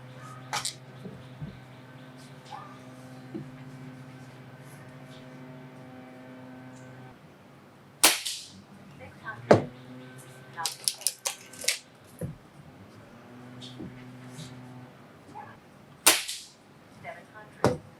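Gamo Swarm Viper GEN3i air rifle firing pellets at targets, giving several sharp, fairly close cracks with impact ticks, spread across the second half over a steady low hum.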